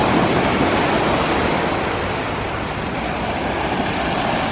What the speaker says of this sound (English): The soothing sounds of the waves rolling in.